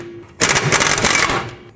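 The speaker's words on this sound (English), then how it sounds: "Now take your 21mm socket and remove the 2 bolts that hold the bracket onto the axle housing." Short burst of rapid clattering from a 21mm socket on a power tool spinning out caliper bracket bolts on a 2008-2010 Ford F-250 rear axle, loud and close for about a second, then stopping.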